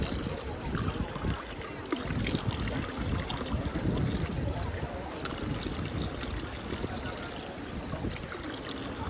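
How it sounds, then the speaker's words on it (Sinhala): Flowing water in Rome, a steady broadband rush like a fountain or stream, continuous and fairly close for the whole stretch, with faint voices mixed into the background. "Wow, මේ තියෙන වතුර මාර cool."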